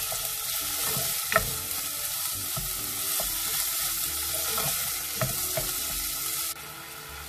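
Minced beef fries over low heat in a pan, a steady close sizzle with soft stirring scrapes and a few spatters, continuous until it drops slightly near the end.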